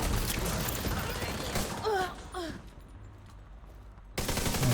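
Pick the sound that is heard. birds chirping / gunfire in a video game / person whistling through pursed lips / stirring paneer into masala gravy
gunfire in a video game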